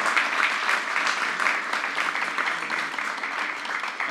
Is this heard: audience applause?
yes